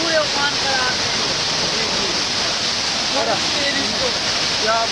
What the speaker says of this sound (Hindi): ये देख सकते हैं किस प्रकार गंजला है, ये तूफानी गंजला, वो भी मंदाकिनी नदी का